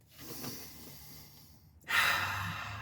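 A person takes a slow, deep breath in a quiet room, starting as a soft airy rush and swelling into a stronger, close, breathy inhale, with no speech.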